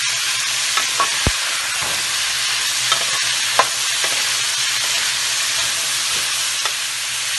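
Mixed vegetables including carrots and potatoes stir-fry in a pan, with a constant sizzle broken by scattered clinks and scrapes of the spoon against the pan, close and fairly loud.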